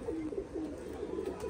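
Pigeons in a winter loft of high-flying birds coo softly in a few short, rolling phrases that repeat close by, with no talk.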